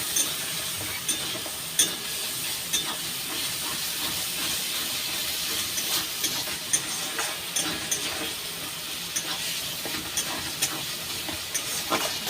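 Ground ginger paste sizzles steadily in a hot pan, a continuous close hiss with soft scraping from stirring running throughout, no voices.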